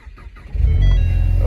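A Dodge Hellcat engine cranks briefly and then catches, its low rumble swelling into a loud, steady idle right up close.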